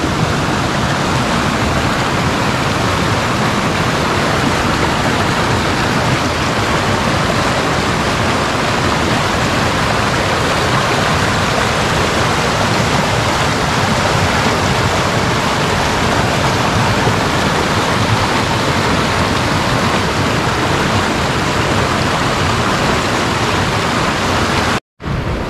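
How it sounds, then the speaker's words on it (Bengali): A waterfall stream in the Seven Sisters Falls area of Cherrapunji rushes beside stone steps, a loud, dense, unbroken roar of flowing water that stays constant throughout before a brief cut near the end. "এই পাশ দিয়ে বয়ে যাচ্ছে জলটা"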